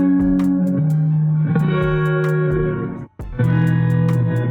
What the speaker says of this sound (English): he taught me this minor third down preset using the grain delay